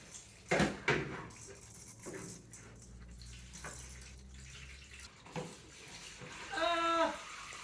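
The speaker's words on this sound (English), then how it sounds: "I think I'm just gonna have to let the water flow out" Floodwater draining from a washing machine onto the floor, a fairly quiet, continuous wash of running water broken by a few louder splashes and knocks near the start.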